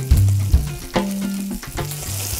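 Sea bass sautéing in a pan, with a close sizzle broken by a few low thumps and shifting bursts of frying noise over a couple of seconds.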